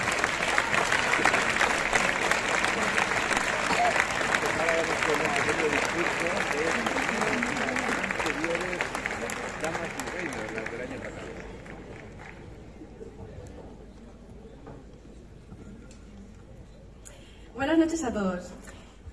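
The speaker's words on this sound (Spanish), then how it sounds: "¡Fuerte ese aplauso!" Festival crowd at the Lerma fiesta proclamation applauding the 2021 festival queens, a loud sustained wash of clapping that gradually fades away, followed by a brief burst of voice or noise near the end.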